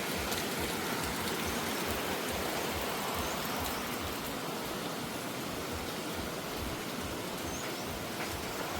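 Shower water at an eco park pours freely in a continuous, even hiss of splashing spray, steady and fairly close with no breaks.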